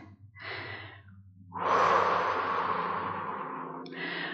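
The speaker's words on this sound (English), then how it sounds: "Take things in, take a deep breath." Close, audible breathing during a Pilates workout: a short exhale, then a long, deep, airy breath drawn and released over a couple of seconds, ending with another brief breath.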